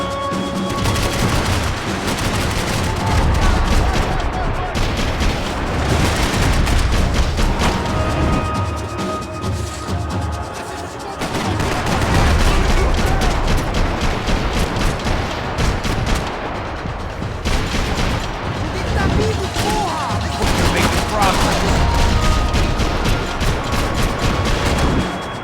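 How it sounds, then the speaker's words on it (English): Dense gunfire fills a Max Payne 3 shootout, with rapid bursts of shots, impacts and crashes stacking into a loud, chaotic barrage with brief lulls. "I can't concentrate with bullets whizzing past my head."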